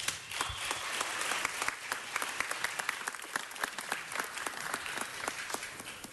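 A room of attendees at a city council meeting applauds the senator with a dense, sustained round of many hands clapping. The applause stays fairly close and even, then gradually thins toward the end.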